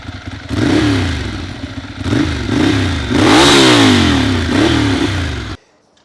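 A Ducati Monster 796 motorcycle engine revs repeatedly in loud rising and falling surges, with crackling pops from the exhaust between revs, then cuts off abruptly.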